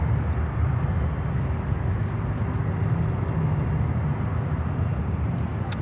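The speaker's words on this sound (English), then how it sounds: "We also have a 767 currently departing on the northern runway, all white one, from Amazon Air." Amazon Air Boeing 767 in all-white livery departing from an airport's northern runway, a steady, loud broadband jet roar with heavy low rumble sustained throughout, with no speech.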